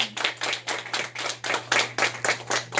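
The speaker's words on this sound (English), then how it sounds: "Let's just have another round of applause" A fundraiser crowd claps in a steady, rhythmic burst of applause, fairly close and uniform, with hands striking in regular pulses.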